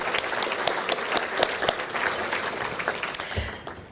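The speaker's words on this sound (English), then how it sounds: "One more round of applause to all of our sponsors." An event audience in Coeur d'Alene gives a round of applause, a dense patter of many hands at moderate distance that holds steady for a few seconds.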